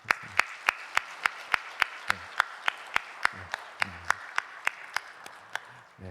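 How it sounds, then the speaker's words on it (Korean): A church congregation gives a welcoming round of applause for visitors at a Sunday worship service, heard as a slow, regular series of loud, sharp claps spaced about a third of a second apart, with no talking. "서울시 구로구에서 오신 차유라 성도님, 또한 서대문구에서 오신 김정연 성도님, 한번 일어나시면 우리가 큰 박수로 환영하도록 하겠습니다."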